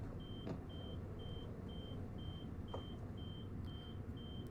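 Train door warning beeps in Train Sim World 2 on a London commuter line, a steady run of short evenly spaced electronic tones over a constant low cab rumble, with a couple of brief clicks.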